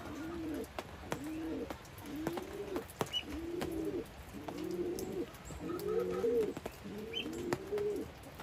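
A pigeon on a farm coos in a slow, regular series of about eight soft, rounded calls, fairly close, with faint background hiss and no talking.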